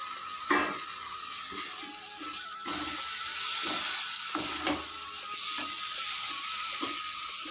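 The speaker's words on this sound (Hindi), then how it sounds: "आलू भाजिक रखिथिले ताको एबे ऐड कर नबा।" Fried potatoes are tipped into a sizzling Odia jagar fish curry in a pan, giving a steady hiss of frying broken by several sharp clinks and scrapes of a utensil.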